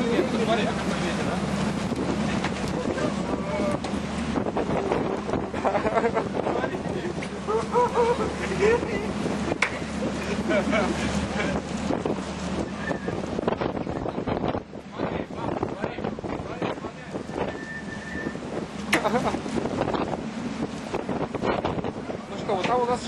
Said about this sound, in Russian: смотри, какой ветер, а?